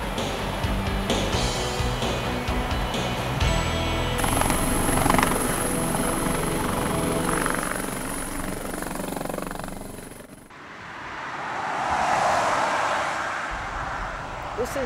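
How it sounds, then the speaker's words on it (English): A helicopter's steady rotor and engine drone fills the scene, loud and close, swelling and fading as it passes, with a whooshing gust near the end. "we're on a short but spectacular helicopter ride"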